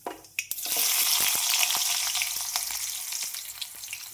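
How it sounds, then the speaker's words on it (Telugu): Mustard seeds, cumin and onions fry in hot oil with a loud, steady sizzle that runs almost throughout after a few sharp ticks at the start, with small crackles and pops scattered through it. "ఆయిల్ వీట్ అయ్యాక ఆవాలు, జీలకర్ర అయితే వేసేసుకుందాం"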